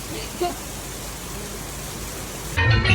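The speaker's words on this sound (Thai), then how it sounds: "ตอนนี้คือฝนยังไม่หยุดตกเลยฮะ" Heavy rain falls in a steady, dense hiss throughout. A brief knock is heard early on, and a louder burst of noise cuts in near the end.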